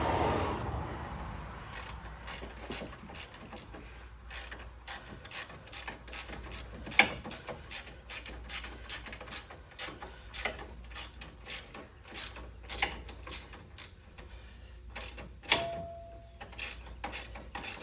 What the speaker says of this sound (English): I'm gonna grab the ratcheting wrench